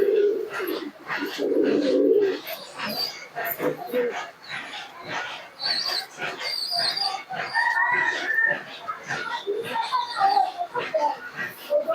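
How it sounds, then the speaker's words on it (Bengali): Domestic pigeons cooing in a home loft, with low, throaty coos near the start and softer bird calls and rustling mixed with background noise afterward. "এটা মাদিন কবুতর"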